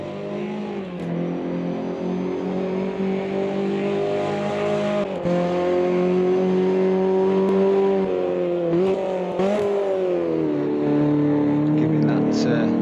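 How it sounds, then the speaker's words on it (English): A little four-cylinder race car engine in Automobilista 2 revs hard and continuously, its pitch climbing and dipping through gear changes, loud and close, with a commentator talking over it. "Giving that little four-cylinder some abuse there"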